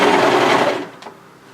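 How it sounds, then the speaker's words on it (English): An overlocker serges a hood onto a pullover hoodie in one loud, close, steady whirring burst that stops abruptly under a second. "all that remains now is to overlock this hood into place"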